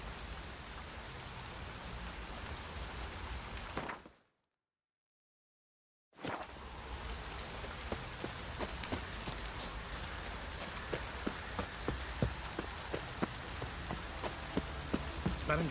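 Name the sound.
rain falling in the video game The Witcher 3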